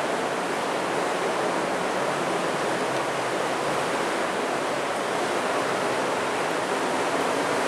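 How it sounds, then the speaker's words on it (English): Steady, loud rushing water roaring without pause through a sluice gate on an underground river, a dense broadband wash. "That's a sluice gate"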